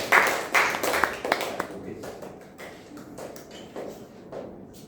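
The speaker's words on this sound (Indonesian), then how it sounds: "Tepuk tangan untuk saudara Ardian." Students in a university classroom give brief applause for a classmate, a short burst of clapping that quickly thins into scattered claps and taps while a voice speaks underneath.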